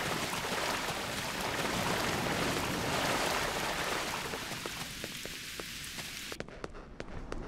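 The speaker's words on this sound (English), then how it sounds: "Wow, rain on Ryza?" Steady rain falls in the video game Hindore Stormbound, a dense continuous patter that eases near the end, leaving scattered individual drops ticking close by; no voices.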